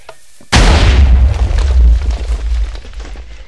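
A ship's cannon in a pirate battle royale video game fires with a sudden loud boom, followed by a rumbling explosion that decays over a few seconds.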